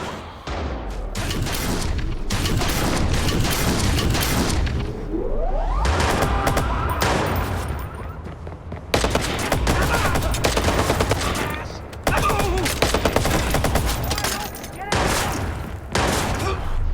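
Rapid gunfire bursts in the Watch Dogs video game, loud fusillades of shots with booms and thuds, repeated volleys stopping and restarting across the stretch.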